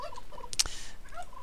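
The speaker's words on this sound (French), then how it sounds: "Ah ben non, ils sont là les dindons" Turkeys in a zoo enclosure letting out a sharp, close gobble, one brief loud burst amid quieter bird calls.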